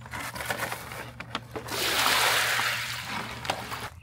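About five gallons of water dumped out of a bucket makes a splashing, rushing pour lasting a second or two, preceded by faint clunks and handling noises nearby.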